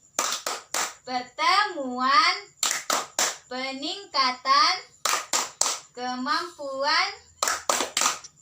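Group of mothers at a Family Capacity Improvement (P2K2) session performing a clap chant: sharp bursts of unison clapping in a steady rhythm alternate with chanted, sung voices, all close and clear.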